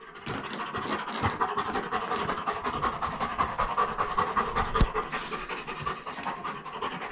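A dog pants rapidly and steadily close by after a walk on a hot day, with quick rhythmic breaths running through the whole stretch and a brief scratch or bump partway.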